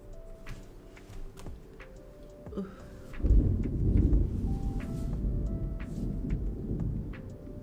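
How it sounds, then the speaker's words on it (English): A deep, close rumble of thunder rolls in after a few faint ticks and lingers, low and heavy, with light rain-like patter underneath. "Did you hear that thunder? That was pretty close."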